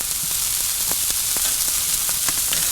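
Shrimp and scallops sizzle steadily over direct heat on a Kamado Joe grill, a continuous close frying hiss broken by faint scrapes and taps as the shrimp are flipped.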